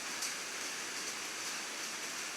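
Heavy, steady afternoon rain in the Philippines, an even, unbroken hiss with no other sounds above it.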